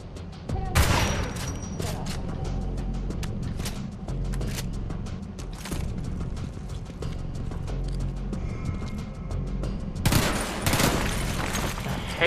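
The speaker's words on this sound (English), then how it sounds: "where the heck is the sniper that's shooting me?" Gunfire in the shooter Homefront The Revolution, including sniper fire: scattered sharp shots and bursts over steady background rumble, with louder cracks near the start and toward the end.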